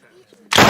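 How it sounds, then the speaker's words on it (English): Cartoon pistol gunshot from an animated sitcom, a single loud, abrupt blast after a moment of near silence. "if I shoot you in the head with this Channel 5 pistol"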